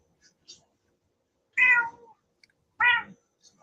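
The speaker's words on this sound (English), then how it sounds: "I hear a kitty cat." A cat meows twice, close and clear, the two calls evenly spaced in an otherwise quiet room with faint small noises between them.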